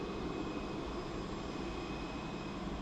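An airliner taxis at Birmingham Airport, a steady distant engine roar and whine holding constant with a broad rushing background.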